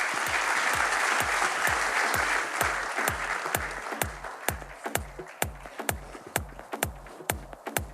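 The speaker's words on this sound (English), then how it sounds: "Give them a round of applause, please." An audience applauds guests joining on stage: full, dense clapping at first, then thinning out until a few sharp, evenly spaced single claps keep going alone.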